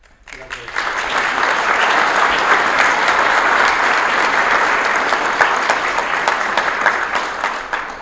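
A large audience claps loudly and steadily at a scholar-athlete awards dinner, the applause swelling quickly at the start and holding for several seconds.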